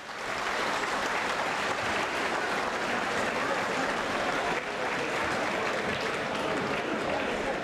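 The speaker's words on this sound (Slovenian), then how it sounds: "pa mu zaploskajmo" Sustained applause from a crowd at an outdoor Slovenian People's Party rally, a dense continuous clapping that stays even and moderately loud for several seconds.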